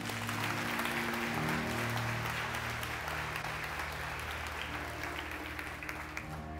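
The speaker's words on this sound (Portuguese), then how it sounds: "Você pode aplaudir Jesus?" A church congregation claps steadily and densely throughout, loud and sustained, with a low droning tone beneath the applause during a Portuguese-language sermon service.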